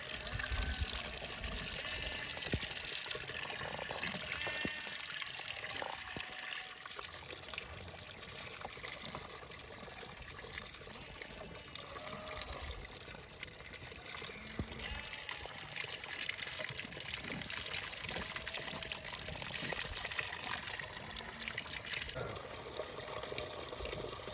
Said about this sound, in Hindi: ये देखो ये डायरेक्ट पाइप से पानी पिए जा रही है